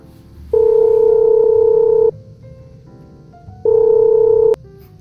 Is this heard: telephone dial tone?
yes